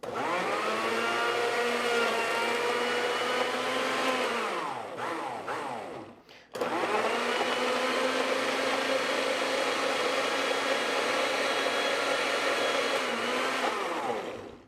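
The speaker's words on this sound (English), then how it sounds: "We're going to turn the blender on and get this all mixed up into one smooth" Countertop blender mixing a shake with frozen strawberries, a loud steady whirring drone that briefly cuts off and drops in pitch, then restarts at full strength and runs on continuously.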